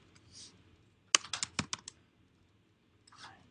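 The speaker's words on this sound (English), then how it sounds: "I will be typing whatever we derived together" Quick bursts of keystrokes on a computer keyboard during MATLAB coding, a rapid cluster of crisp clicks followed by a pause, with faint murmurs before and after.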